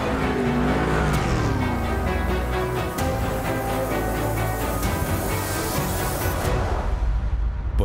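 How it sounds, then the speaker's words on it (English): A drift car's engine roars and revs continuously at a DMEC drifting competition in heavy rain, loud and close throughout, with no talk over it. "Gregor Zipke, as he fires that car."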